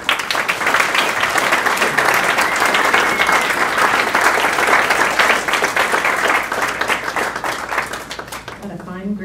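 A large audience at a white coat ceremony for a new MSBS class gives sustained, loud, dense applause that continues steadily for several seconds before a voice begins speaking at the end.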